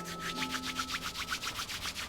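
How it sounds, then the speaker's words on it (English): Hands rubbing briskly together, a rapid, even series of close, dry swishing strokes with no talking. "you can rub your hands together"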